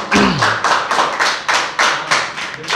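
A few people clap in a slow, uneven rhythm, about nine distinct claps, close and fairly loud, with a brief voice at the start, in a setting around a dance choreographer teaching poor children.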